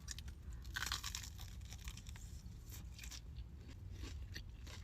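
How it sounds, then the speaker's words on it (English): Crunchy bite into a cheesy, crispy Korean street-food corn dog, heard as a close, loud crackling crunch that continues into steady chewing throughout. "The crunch on this is perfect."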